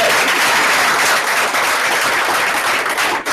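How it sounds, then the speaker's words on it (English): An indoor audience at a ceremony announcing placings bursts into loud, dense applause, a continuous wash of many hands clapping close by that holds steady before cutting off briefly at the end. "Give her a round of applause."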